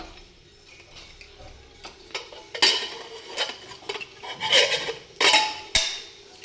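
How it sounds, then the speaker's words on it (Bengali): A steel pressure cooker lid comes off after boiling mutton curry, followed by scattered clinks and clatters of metal pots and utensils, several sharp knocks rising out of a quiet kitchen background. "আমি এখন প্রেশার কুকারে ঢাকা খুলে দেখে নিচ্ছি মটনটা কেমন দেখতে হয়েছে"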